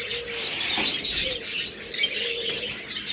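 Budgerigars kept for sale chirp and twitter in quick, repeated bursts at moderate volume, several birds overlapping without any talking.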